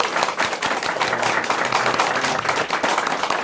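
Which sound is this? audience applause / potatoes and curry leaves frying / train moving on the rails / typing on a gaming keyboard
audience applause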